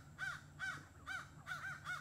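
Crows caw outdoors in a steady series of about six harsh calls, the last two coming close together, clear and moderately near with no talk over them.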